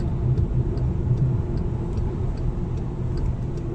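Car driving along a road in Qatar on a dusty day, a steady low engine and road rumble heard from inside the vehicle with no other sounds.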